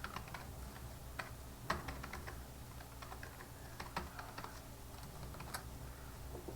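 Steady typing on a computer keyboard, quick irregular key clicks with a few sharper taps, close and fairly quiet, with no speech.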